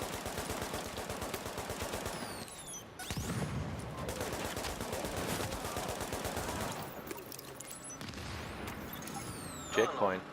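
A deployed turret gun in The Division keeps up rapid, rhythmic automatic fire at moderate distance, with brief pauses, shell and impact clatter, and a sharp burst at the end, while a voice speaks over the shooting.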